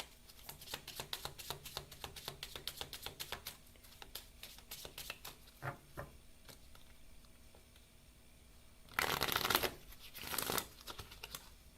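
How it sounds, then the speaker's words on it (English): Tarot cards shuffled by hand, a rapid run of soft papery riffles and taps followed by a couple of louder bursts as the deck is bridged and squared, close and alone. "I definitely just shuffled."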